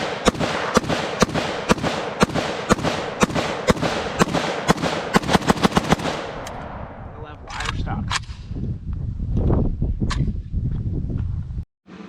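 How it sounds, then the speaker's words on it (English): A Cugir WASR-10 Paratrooper AK carbine fires a rapid string of sharp, loud shots in steady succession for about six seconds, followed by rumbling handling noise and wind outdoors. "First rounds out of the WASR Paratrooper."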